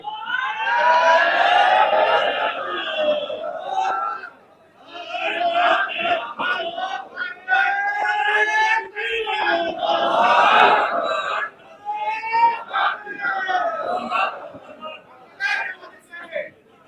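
Crowd chanting slogans at a political rally to welcome an arriving party leader, loud massed voices in rhythmic bursts that rise and drop with short pauses, sustained close by.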